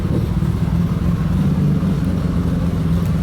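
Nissan R33 GTR with RB26 engine running under load, a loud, steady, droning engine note that holds evenly throughout without talk.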